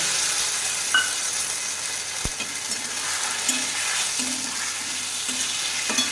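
Tomato paste frying in a pan for a pointed gourd, potato and chickpea curry, with a steady close sizzle and occasional scraping stirs of a spoon against the pan, a sharp clink midway, and no talking.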